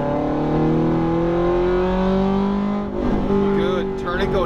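A Ferrari F430 engine revs hard on track, a steady rising mechanical howl that dips briefly then climbs again, with a driving instructor talking over it.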